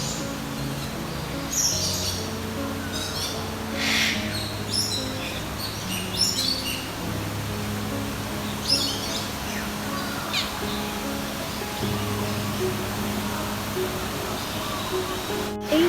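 Birds calling inside the Edward Youde Aviary in Hong Kong, a netted walk-through enclosure: scattered chirps, tweets and crow-like caws, some near and some farther off, over a soft steady background hum.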